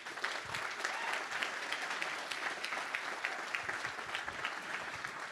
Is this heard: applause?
yes